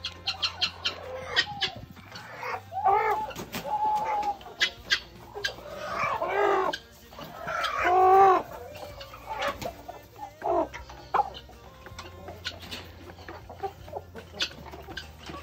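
Chickens cluck and squawk close by on a rural property in a series of irregular bursts, with a few louder calls in the middle against a faint steady background hum.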